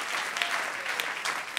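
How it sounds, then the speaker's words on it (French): Church congregation applauding together during a French-language sermon, a soft but full spread of clapping with a few sharper individual claps standing out, heard from a little distance. "Est-ce qu'on peut donner une bonne main d'acclamation à Dieu?"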